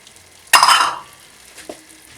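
Butter dropped into hot rajma masala in a pan sets off a sudden close sizzle that fades over about half a second, followed by a small clink.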